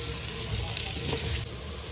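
Onions frying over a medium-low flame in a pan for Old Delhi style degi chicken korma, giving a steady, close, dense sizzle that holds an even level throughout with no one speaking.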